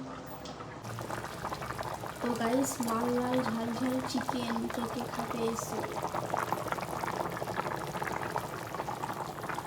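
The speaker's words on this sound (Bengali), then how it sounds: "এখন ঝোলটা ফুটছে নামিয়ে নিই" Spicy chicken curry gravy bubbles steadily in a pot, a close continuous boiling texture running under a voice talking throughout.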